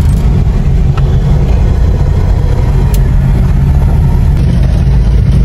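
A car engine runs steadily during a test drive after a brake fluid leak repair, giving a loud, continuous rumbling drone throughout with no one speaking.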